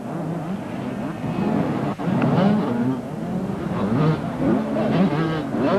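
Supercross motorcycle engines revving as a rider approaches at a 1989 Canberra race, a loud wavering buzz rising and falling under crowd noise and commentary.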